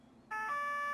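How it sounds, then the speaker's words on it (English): A loud electronic police siren tone in Farming Simulator 2015 switches on abruptly after a moment of near silence and holds steady, bright and piercing. "I just hate all police sirens."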